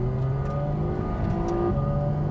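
Porsche Cayman GT4 RS flat-six engine revs toward 9,000 RPM on the road, a loud, sustained high-pitched howl heard from close inside the car, without speech.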